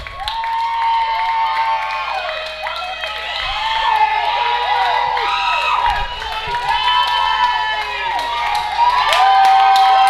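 Fans at a Maryland Bobcats FC vs. San Diego 1904 FC soccer match roar and whoop after a goal makes it 2-0, a loud, sustained crowd cheer with shrill shouts and voices mixed in.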